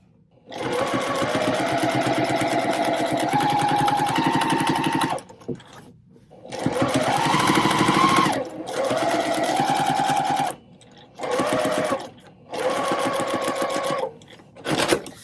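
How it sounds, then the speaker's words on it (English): A sewing machine stitches quilt pieces for a Dresden quilt in several sustained runs of fast, even whirring, loud and close, separated by short pauses. "start sewing"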